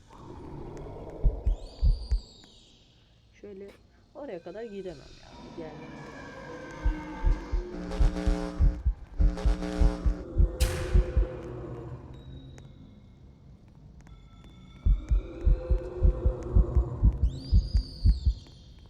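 Fast, steady heartbeat thumps from the Roblox horror game Lights Out, pulsing in rhythmic pairs beneath game music and tonal effects while a player talks over parts of it.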